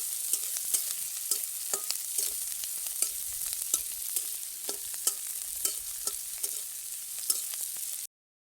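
Onions fry in a pan toward golden brown for an Odisha-style mutton curry, a constant close sizzle punctuated by frequent sharp clicks and scrapes of stirring, with no voices.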